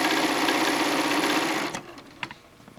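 Close, continuous sewing machine whir stitches quilt pieces for under two seconds, then stops, leaving a few faint clicks.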